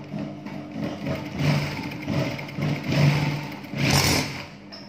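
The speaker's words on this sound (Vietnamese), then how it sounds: "chúng ta may một đường chặn di đi di lại khoảng 3 lượt chỉ nhá" A sewing machine runs in several bursts while stitching a bar-tack back and forth across a trouser pocket, its motor whirring steadily and close, with short pauses between passes.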